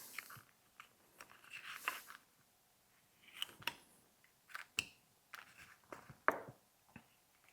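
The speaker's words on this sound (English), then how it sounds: "So carve this back in there kind of fairly deep" A knife carves wood fairly deep along the hat trim of a small snowman ornament, giving a series of short, crisp cutting and crunching strokes in irregular bursts, close and quiet with pauses between cuts.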